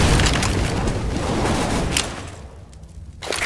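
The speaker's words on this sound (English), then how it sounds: "Grenade out." A grenade detonates in a first-person shooter match, a loud broad boom with rumbling debris that fades over about two seconds, then a fresh burst of noise near the end.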